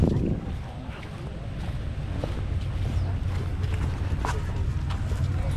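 Steady low rumble of a boat on the water off Siargao, Philippines, with wind buffeting the microphone, continuous, with faint scattered knocks and no clear speech.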